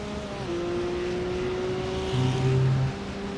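Cup 2 / SP7 race cars lap the Nürburgring during a winter 24-hour endurance race, a steady engine drone holding pitch before a second car's deeper note swells in nearby and fades.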